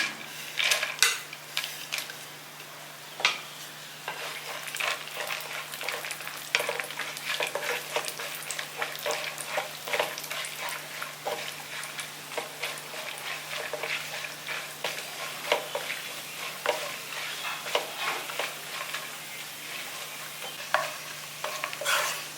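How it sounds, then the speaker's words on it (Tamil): Pistachios, cashews and almonds roasting lightly in ghee in a pan: quick, repeated scraping and clicking strokes of a spoon stir over a soft sizzle, steady and close for over twenty seconds, with a low hum beneath and no speech. "பிஸ்தா கொஞ்சோண்டு முந்திரி கொஞ்சோண்டு பாதாம் வச்சுருக்கேன் இது எல்லாத்தையும் வந்து லேசாக வறுத்துக்கலாம்"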